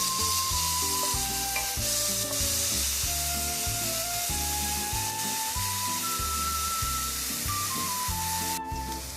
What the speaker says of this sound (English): Now you can add in your onions. We're going to let that saute for 2 minutes.